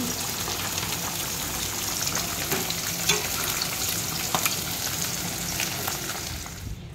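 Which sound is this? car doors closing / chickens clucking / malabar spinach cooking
malabar spinach cooking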